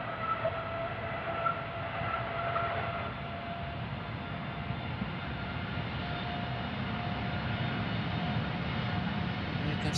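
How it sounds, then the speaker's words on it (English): Boeing Dreamliner jet taking off from Amsterdam Schiphol, a distant, fairly faint engine rumble holding steady across the whole stretch, with no voices. "Dreamliner from America first taking off"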